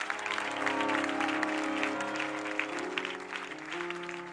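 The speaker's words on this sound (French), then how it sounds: "Clap now." An audience applauds at a church praise and worship service, a steady wash of clapping that holds for several seconds over sustained music.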